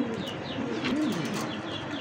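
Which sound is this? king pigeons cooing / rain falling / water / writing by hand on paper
king pigeons cooing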